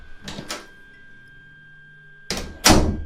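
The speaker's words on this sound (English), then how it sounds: "I heard the bathroom door open" A bathroom door clunks twice, a short thump early and a louder latch-and-swing noise near the end, with a faint steady hum in between.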